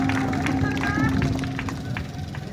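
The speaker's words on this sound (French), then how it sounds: "Veuillez applaudir." A crowd at an outdoor airport works launch ceremony in Lodja, Sankuru, claps in a dense patter, faint and short, mixed with murmuring voices and a speaker.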